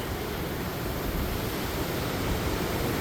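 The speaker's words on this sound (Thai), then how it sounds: "น้ำตกตาดงามหลาย แต่ว่าช่วงนี้น้ำไหลแน่แต่ว่าวิวงามดีเนาะ" A waterfall in Sekong province, Laos flows with a steady, broadband rushing roar that stays even and continuous throughout, with no voices over it.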